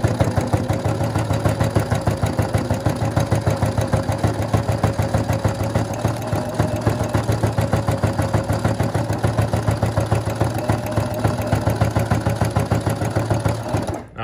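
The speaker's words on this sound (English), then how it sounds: "I'm going to put the presser foot back down and continue sewing." A sewing machine stitching paracord runs as a steady, rapid mechanical chatter, close and continuous for the whole stretch, with no talking over it.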